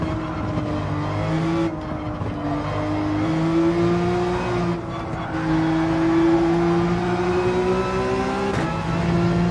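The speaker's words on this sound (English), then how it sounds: "Rev it out, holding in 5th all the way down the straight" A Porsche in the racing game Gran Turismo 7 at the Spa circuit, held in fifth gear down a straight: a loud, sustained engine drone climbs steadily in pitch with no talking.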